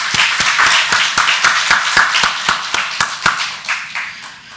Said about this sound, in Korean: 하나님께 감사와 영광의 박수를 드립니다.